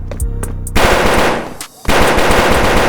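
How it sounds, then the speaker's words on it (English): Gunshot sound effects in a narrated crime story: a few separate booming shots, then a dense, loud burst of rapid automatic gunfire that pauses briefly and resumes, close and harsh. "Detective Carter glanced around when he heard what sounded like gunshots."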